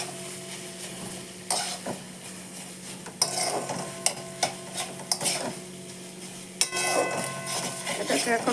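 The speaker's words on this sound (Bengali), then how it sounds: "এটাকে এখন কষাই" Chicken keema being stirred and fried in a pan over low to medium flame, a steady sizzle broken by sharp scrapes and clinks of a spatula against the pan, close and fairly quiet.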